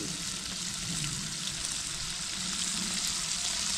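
Lumberjack bacon frying over a campfire in the woods, a soft, even crackling sizzle with a watery hiss, steady and fairly faint, no voices.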